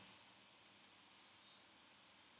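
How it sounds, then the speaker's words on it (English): A single crisp click of a computer keyboard's Enter key, close and sharp against near silence, then a fainter second tick a second later. "So you just click on enter."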